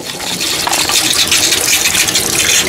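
A Shurflo water pump running in a DIY travel trailer, with water gushing in a loud, continuous rushing hiss that stays steady throughout.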